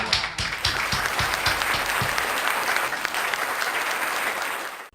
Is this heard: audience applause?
yes